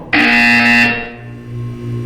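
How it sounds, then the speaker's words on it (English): A loud, steady electronic buzzer from the Portal 2 video game sounds for about one second, then fades into a lower sustained hum. "When you hear the buzzer, look down at the floor."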